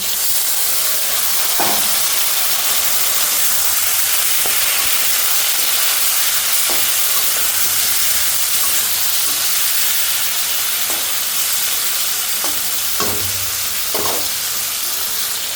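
Chicken pieces frying in a pan hiss and sizzle steadily throughout, with occasional sharp clinks and scrapes of stirring rising briefly above the broad, close frying noise.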